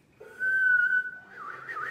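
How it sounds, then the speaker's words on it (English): A person whistles a steady sustained note, then slides into a wavering, warbling pitch, close and clear with faint background murmur. "Can you whistle?"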